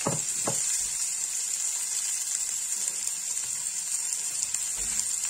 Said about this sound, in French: On va faire dorer l'oignon.